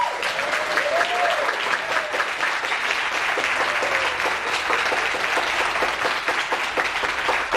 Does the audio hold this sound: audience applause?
yes